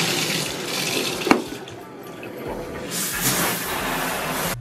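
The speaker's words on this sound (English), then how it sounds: "I hop into the shower" Water from a bathroom shower runs in a steady hiss and splash, with a sharp knock partway through and the spray growing brighter and louder toward the end.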